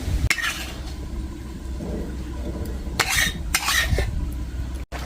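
Cooked meat being moved from one cooking pot into another, with scraping and clinking of utensils against metal pots in a kitchen, a few sharp clanks standing out over a steady low background.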